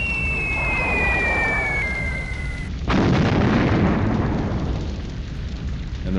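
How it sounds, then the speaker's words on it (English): Bombs fall from a B-17 Flying Fortress in a game sound effect, a descending whistle giving way to a sudden heavy explosion and a long rumbling roar that fills the rest, loud and close, with no voices. "The B-17s dropped their bombs."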